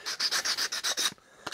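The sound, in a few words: sanding lacquer off a Padouk wood Opinel knife handle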